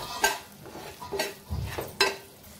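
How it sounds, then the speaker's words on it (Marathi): Chopped green chillies sautéing in oil, quiet background sizzle punctuated by four sharp stirring scrapes and clinks at roughly even intervals, close and fairly soft. "ह्या 10 ते 12 मिरच्या कापून घेतल्या आहेत, त्याही परतून घेते तेलावर"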